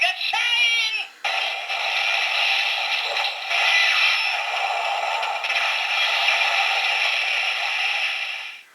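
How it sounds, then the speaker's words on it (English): Kamen Rider Ghost DX Sunglasseslasher toy sword in sword mode firing its Omega Shine finisher: tinny electronic voice call, then a long crackly, noisy burst of effect sound from a small speaker, close and steady. "there you get sword mode's finisher attack, Omega Shine."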